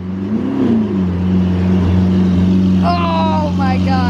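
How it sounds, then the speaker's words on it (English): A loud Ferrari SF90 engine hums and revs up close, its exhaust pitch climbing briefly, while a voice exclaims excitedly over the engine near the end. "this exhaust sounds insane!"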